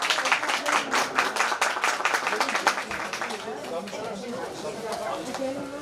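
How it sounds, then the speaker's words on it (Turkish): An outdoor crowd at a stuffed meatball (içli köfte) contest applauds the first-place winner, a thick, sustained wash of many hands clapping that fades slightly toward the end, mixed with chatter and talk. "Alkışlayalım birinciyi."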